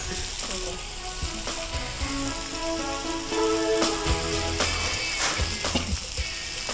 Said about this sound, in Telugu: ఇది కొద్దిగా వేగాలి, వేగాక వాటర్ పోసుకోవాలి.